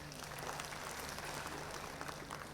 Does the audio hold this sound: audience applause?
yes